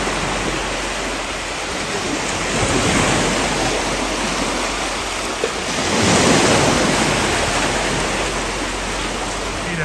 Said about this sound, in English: It's starting to splash up on the rocks and all sorts